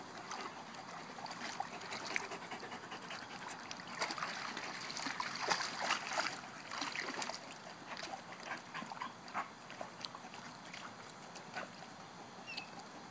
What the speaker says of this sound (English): And there goes Miles, just swimming on his own to cool off.